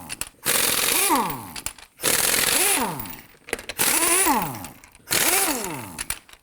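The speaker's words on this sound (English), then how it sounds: "it's going to use our 21mm socket to loosen and remove these lug nuts" An impact wrench fitted with a 21mm socket loosens the lug nuts on a Nissan Murano. It fires in four loud, close bursts of about a second each, separated by short pauses, and its pitch sweeps as each burst winds down.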